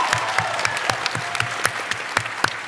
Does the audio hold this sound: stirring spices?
no